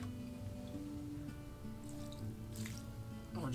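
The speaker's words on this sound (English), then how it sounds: "We're just going to add a whole bunch of water here." Water trickles and drips as it is poured from a cup into a worm bin, a light, close liquid splash over a steady background hum.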